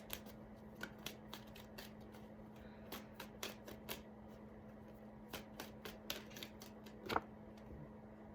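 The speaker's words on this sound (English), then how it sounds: "Let's just get one more card on this." Tarot cards are shuffled and flicked in quick, crisp bursts of riffling and snapping, close and quiet against a faint steady hum, with no talking.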